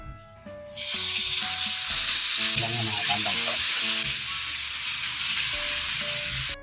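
Dalagang bukid fish fry in hot oil with a loud, steady, close sizzle that starts abruptly and holds throughout, and someone speaks briefly over it.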